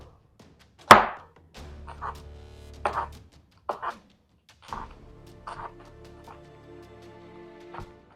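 A knife working through a fresh jalapeño on a cutting board as it is deveined for Philly cheesesteak prep, giving a sharp opening thunk and then a handful of soft, scattered cuts and scrapes, close and fairly quiet, with no one talking.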